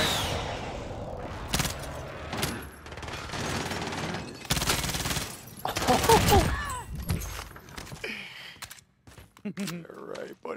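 Airstrike blasts and gunfire in the video game Warzone, with loud rattling bursts and explosive crashes coming in waves over about ten seconds, while players talk over the action.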